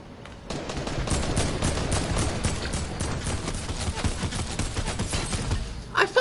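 Rapid continuous gunfire in the video game Fortnite, a dense rattling burst lasting several seconds at steady loudness, ending with a few sharper sounds.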